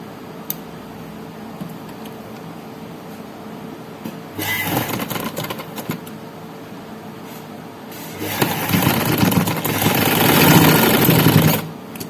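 A sewing machine stitching loops onto a neckline runs in two bursts, a short whirring run near the middle and a longer, louder one toward the end, separated by quiet pauses, close by with no talking.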